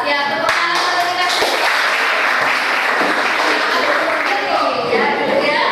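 Classroom group applause, loud continuous clapping from many hands filling the whole stretch, close and busy, with a few faint voices mixed in.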